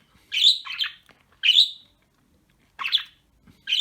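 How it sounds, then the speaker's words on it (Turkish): A bird chirps in short bright bursts, four calls spaced about a second apart, close and clear against near silence. "Kuş bey niye ötüyorsun? Niye bu kadar hışımlısın?"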